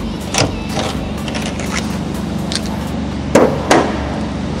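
A hammer strikes and knocks loose the molding on a Honda Civic Estilo during a restoration, giving a few sharp, close knocks and cracks spread over a steady workshop background hum.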